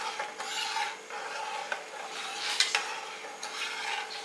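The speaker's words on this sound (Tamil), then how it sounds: "கைவிடாமல் கரண்டியை போட்டு கிளறுங்க" A ladle stirs thick ragi kali made with rice in a pot, making soft, continuous scraping and rubbing sounds with occasional light knocks, quiet and close with no voices.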